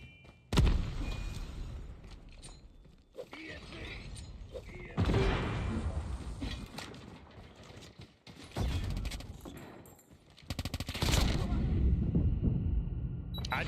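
Machine pistol fire crackles in a shooter game match: several loud, rapid bursts break out between quieter stretches of in-game mechanical noise, with the most intense rattle near the end.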